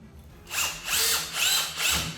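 A power drill drives screws into floor trim in a few short bursts, with a close, whirring rise and fall about every half second after a quiet start.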